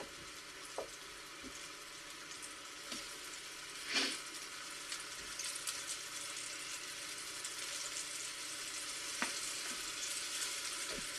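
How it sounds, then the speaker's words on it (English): Steady frying sizzle from flour-dredged chicken for chicken Marsala in a hot pan, continuous crackle with a few sharper pops and a brief louder burst near the start. "In the pan it goes. Nice little sizzle."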